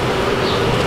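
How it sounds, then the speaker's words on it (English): Honey bees buzz as a dense, steady drone, loud and close, filling the whole moment without pause during a bee removal from a brick wall. "We're going to go ahead and transfer the bees into a larger setup."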